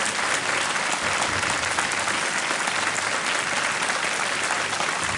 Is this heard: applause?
yes